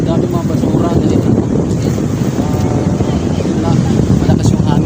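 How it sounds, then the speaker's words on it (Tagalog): Strong wind buffets the microphone on a seaside spot in the Dolomites, a steady loud roar with gusty rumble and wave wash beneath, sustained throughout with no voices. "Malakas yung hangin."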